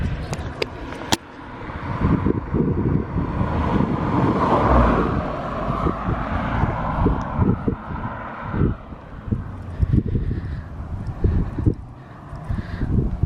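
A cheap, high-mileage VW Golf GTI with about 200,000 miles runs nearby, a steady low rumbling engine drone with some wind buffeting and bumps, continuous throughout.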